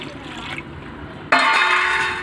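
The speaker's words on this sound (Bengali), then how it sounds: "আর একটু দিয়ে দেবো ভালো জল" Water poured into a pot of frying chicken curry, bringing a sudden loud hiss and sizzle that continues steadily after a quieter stretch of cooking noise.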